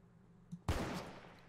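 A single loud gunshot in Garry's Mod bursts out after a soft, quiet moment, its blast trailing off over the following second.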